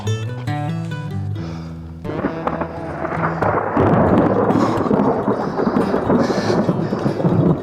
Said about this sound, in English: Big ol' thunder.